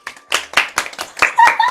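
A few people clapping in a quick, uneven burst of sharp hand claps, close and loud, about eight distinct claps with no talking.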